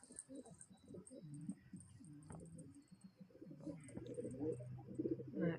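Low, rolling coos from a male pigeon repeat through the clip over a faint background hiss, fairly close and steady.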